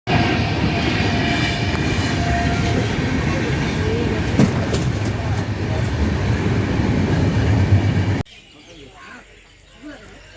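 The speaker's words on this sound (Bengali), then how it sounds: "চলে এসছি স্টেশনে" A train at a railway station before dawn, a loud steady rumble of rolling wagons with clattering filling most of the clip, then cutting away abruptly to a much quieter station ambience near the end.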